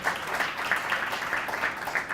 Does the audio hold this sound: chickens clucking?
no